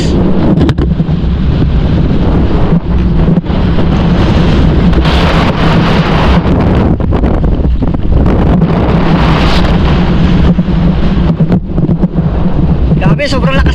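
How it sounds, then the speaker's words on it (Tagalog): Loud, roaring northeast monsoon wind buffets the microphone continuously, with gusty surges throughout and a voice speaking under the blustery noise. "Grabe, sobrang lakas na namin ang hangin."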